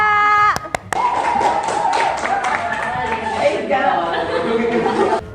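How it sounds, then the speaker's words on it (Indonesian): Students in a classroom give a student group a brief burst of close clapping, which quickly gives way to mixed chatter and voices. "oke, tepuk tangan dulu untuk kelompok"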